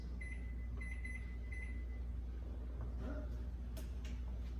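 A kitchen timer set for 15 minutes while lentils are simmering for soup beeps three times in quick even pulses, clear but modest, over a steady low kitchen hum.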